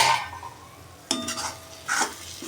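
Masala being stirred and sautéed in a kadai for lasuni methi, a spatula scraping in bursts with a soft sizzle between, close and moderately loud, no talking.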